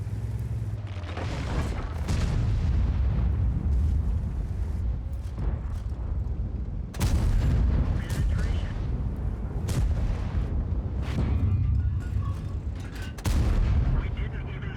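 Repeated heavy tank-gun blasts fired from HEAT rounds in the World of Tanks video game, sharp booming shots at uneven intervals over a dense rumbling battle bed, loud and close, with no talk.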